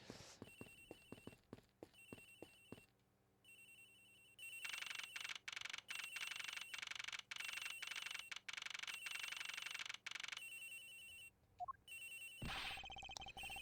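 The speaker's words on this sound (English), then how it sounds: "Ringing's coming from somewhere in here, sir." A telephone rings repeatedly in the video game Ace Attorney Investigations Collection, a bright electronic trilling bell that starts with sharp ticks, then sustains loudly in long bursts before cutting off.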